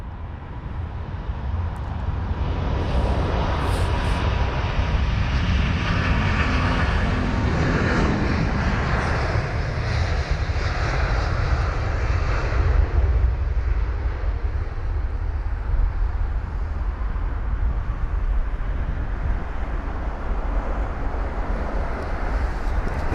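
Airbus A350 taking off from a Heathrow runway, a long powerful jet roar that swells and rumbles for over twenty seconds, loud and steady before easing slightly as it climbs away, with no voices.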